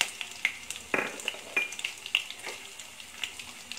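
Curry leaves and cumin seeds sizzle and crackle in hot oil for a bitter gourd pulusu, with sharp popping spatters and a few stirring scrapes over a steady close fry.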